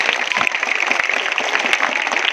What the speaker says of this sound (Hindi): उनके लिए जोरदार तालियां एक बार वापस से।